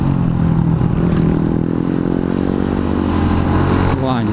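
Motorcycles race along a narrow road on a forest trail, their engines droning loud and close with a steady buzzing roar and a rising whine near the end, while a voice sounds over the engine noise.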